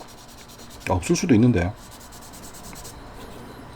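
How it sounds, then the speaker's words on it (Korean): A stick sandpaper rubs across the flat surface of a plastic model kit part, giving soft, scratchy strokes close by, interrupted by a short stretch of speech. "이 스틱 사포로 문질러 보면 또 수축이 보이거든요"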